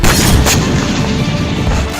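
A bomb dropped by a drone explodes on a Ukrainian Challenger tank in Kursk, a loud heavy boom with a sharp crack early on and then a rumbling roar that fades slowly, with no voices.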